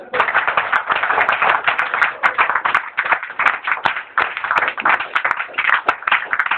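Audience applause at a live Neil Hamburger comedy show in Salem, with dense, steady clapping that holds throughout at a loud, close level.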